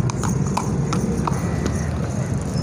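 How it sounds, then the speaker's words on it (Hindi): A mare's hooves clip-clop in a steady rhythm on hard ground at a busy horse market in Lahore, with a constant crowd murmur and low rumble behind them. "यह घोड़ी जे और काफ़ी हैल्थी और मोटी ताज़ी"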